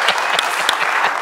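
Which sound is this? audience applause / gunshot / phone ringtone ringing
audience applause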